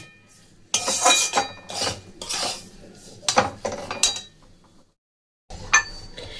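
Corn flour roasting on low flame while being stirred in a pan for corn-flour laddus, with repeated scraping and clinking of a spoon against the metal pan in bursts, a short pause, then more stirring.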